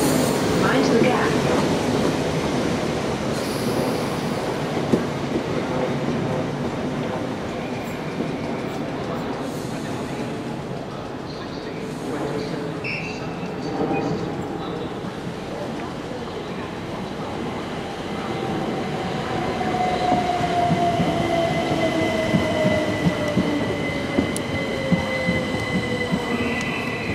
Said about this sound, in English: The train now approaching platform 13 is the 16:29 Southern service to Lingfield.